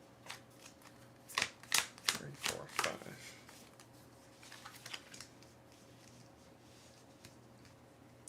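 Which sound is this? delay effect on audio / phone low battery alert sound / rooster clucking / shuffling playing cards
shuffling playing cards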